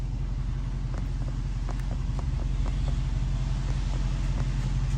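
A 2014 Dodge Challenger R/T engine held at raised revs around 3,000 RPM in drive, a steady, loud rumbling drone with no pauses, close by.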